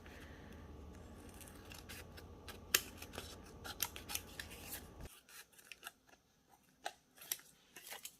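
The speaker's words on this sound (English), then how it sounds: "So I'm going to just start by cutting the excess off of these." Scissors cut excess paper or card off craft button cards, with repeated crisp snips and slicing swishes, close and clear over a low steady background hum that drops away partway through.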